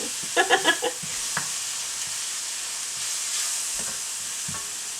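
Beef and shirataki lo mein noodles sizzle steadily in a hot pan, a constant hiss with a few clattering utensil taps and scrapes near the start, no talking.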